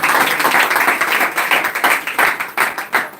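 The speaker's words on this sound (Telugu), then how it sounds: "గట్టిగా చప్పట్లు కొడదామా?" A church congregation at a New Year service clapping loudly together, a dense, steady burst of hand claps filling the hall with rhythmic peaks toward the end.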